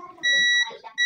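A multimeter continuity tester buzzer beeps in short, piercing tones while probing a Samsung PS43E400U1R 43-inch plasma TV board, two distinct beeps close by, with faint murmuring in between.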